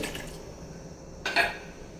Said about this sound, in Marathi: तर आता इथं पुन्हा अर्धा कप पाणी घातले